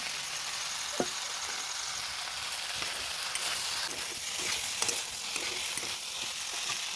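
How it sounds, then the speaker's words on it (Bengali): Pasta and eggs fry in a pan with a soft, steady sizzle, a few light clicks of stirring breaking through now and then; quiet and close, with no talking. "আমার সব ভাজা হয়ে গেছে, এবার দিয়ে দেবো পাস্তাগুলো।"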